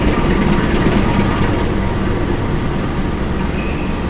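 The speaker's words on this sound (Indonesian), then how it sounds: "ada rangkaian kereta yang masuk" An Argo Dwi Pangga economy train rolls into a station, a loud continuous rumble of wheels and wagons that fades slightly toward the end, with no talk.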